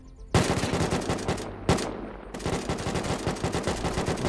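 Rapid automatic gunfire in the survival video game Unturned: dense bursts of shots rattling steadily across the clip, loud and close with brief gaps.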